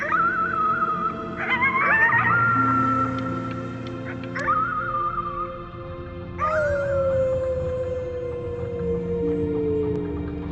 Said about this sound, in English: You howled at the moon at the top of your lungs.